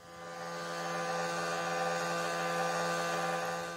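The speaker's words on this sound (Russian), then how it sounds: "Хорошо взбиваем в миксере до пышной пены." An electric mixer whips eggs into a fluffy foam, giving off a steady, even motor hum with a bright whine that rises gently at the start and then holds constant, with no talking.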